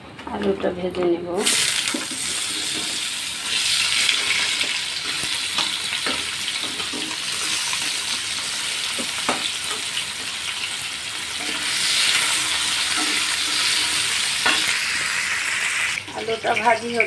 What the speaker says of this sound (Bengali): আলুটা ভাজি হচ্ছে, কড়াই দিলাম, তেল দিলাম